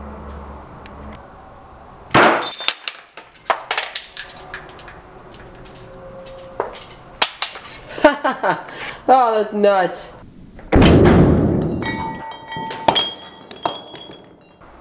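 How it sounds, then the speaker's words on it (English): A shot from a giant 13kJ ruby laser strikes a glass soda bottle, setting off a loud, sharp crack with a brief burst of breaking glass amid scattered clicks and knocks, while people talk before and after. "the laser beam hit right here, and it only cracked here, but it ended up shattering above it"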